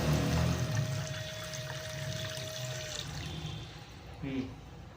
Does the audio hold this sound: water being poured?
yes